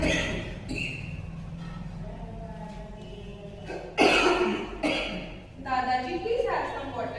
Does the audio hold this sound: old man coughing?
yes